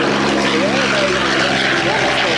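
Corsair warbird propeller aircraft getting airborne at an air show, a steady droning piston engine with a faint rising and falling tone, loud and close, with a commentator talking over it.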